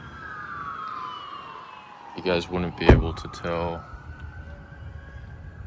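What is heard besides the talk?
fire engine sirens from a nearby fire station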